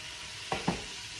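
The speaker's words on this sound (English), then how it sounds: "Just searing that meat off." Brisket sears in a hot pan with a steady sizzle, broken by two quick louder spits or stirring scrapes midway, close up and with no voices.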